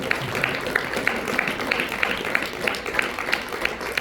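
Audience applause at an English Harikatha performance of Shiva Parvathi Kalyanam, a steady wash of many hands clapping with rhythmic accented claps, fairly loud and continuous throughout.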